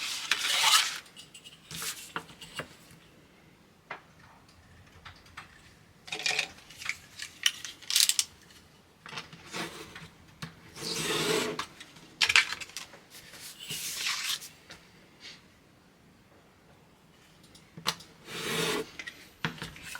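Pencil traced around a card blank on a craft table while making a floral card, heard as intermittent scratchy rubbing and scraping strokes with pauses between them, close and fairly quiet, no talking.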